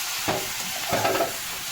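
Shredded cabbage frying over high heat, stirred in a pan with a steady sizzle and two louder scraping stirs, close and alone.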